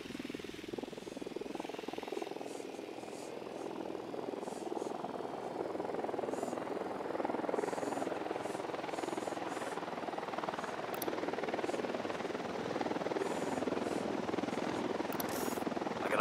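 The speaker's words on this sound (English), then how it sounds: "Deploying drone." A surveillance drone in the video game Ghost Recon Wildlands whirs with a steady, close rotor buzz that holds at an even level throughout, with faint game ambience behind it.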